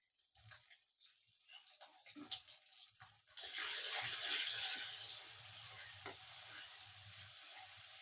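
Stirring clinks and light frying in a pan with fried green chilli and ginger give way to a loud, sustained sizzle as tomato paste goes in, then it settles to a steady crackle with no talking.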